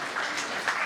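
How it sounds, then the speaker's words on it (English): A short burst of audience clapping at a yoga institute's foundation day ceremony in Mumbai, a dense even wash of hands lasting under a second. "Can everybody please clap?"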